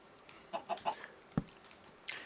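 Chickens in a video game cluck in a quick run of three short clucks, followed by a sharp single tap and a brief rustling burst, fairly close against a quiet background.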